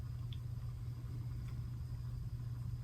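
A small tumbler spinner motor turns an epoxy-coated tumbler, giving a quiet, steady low hum with no break in rhythm.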